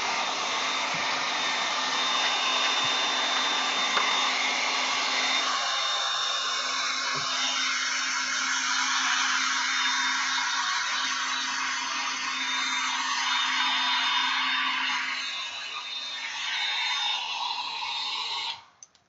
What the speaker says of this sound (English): So I'll just blast this hair dryer.